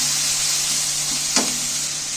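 Momo filling frying in a pan, a steady moderate sizzle with one brief clink of a utensil partway through, heard close and without talk.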